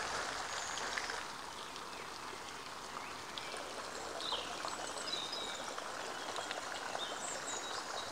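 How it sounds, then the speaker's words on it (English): A water feature in the botanical gardens of Coimbra, Portugal, flows and splashes in a continuous, even trickling rush, heard close and alone with faint background sounds. "Look at this stunning water feature."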